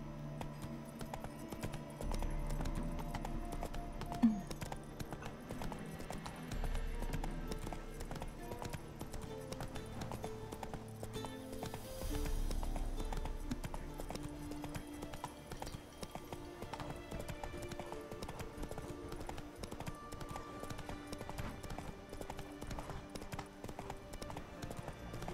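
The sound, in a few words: horse Roach's hoofbeats, from the video game The Witcher 3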